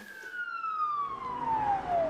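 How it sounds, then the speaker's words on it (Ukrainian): Air raid siren wailing in Kharkiv, a single long descending tone with harmonics sweeping down steadily, loud and alone. "Вони здаються байдужими до звуку сирен, які стали звичними."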